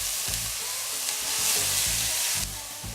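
Sliced garlic and salted vegetables frying in a pot, a steady close sizzle with repeated low scraping thumps as a spoon stirs across the bottom.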